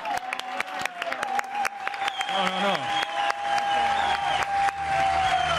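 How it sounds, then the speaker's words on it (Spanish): Studio audience applause on a Spanish-language talk show panel, a steady wash of clapping with a few sharper claps, mixed under continuous talk from the hosts over it. "fuerte el aplauso para Fío,"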